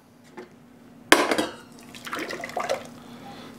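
Thick puree tipped from a container into a pot, a sharp tap against the rim followed by wet plopping and sliding, close and fairly quiet, with a few softer splats trailing after and no talking.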